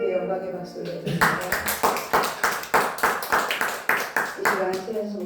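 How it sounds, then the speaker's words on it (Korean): A church congregation gives rhythmic applause during a worship service, a dozen or so loud, even claps in steady unison after a voice finishes speaking, close and reverberant. "하나님께 영광의 박수를 드립니다"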